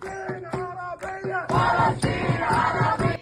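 A crowd at a protest chants loudly in a steady rhythmic cadence, many voices shouting together in repeated phrases, close and continuous.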